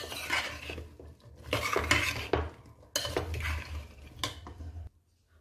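Cauliflower, carrot, potato and eggplant pieces are mixed together in a vessel, heard as soft repeated scraping and clinking of a spoon against metal in close, uneven bursts before going quiet.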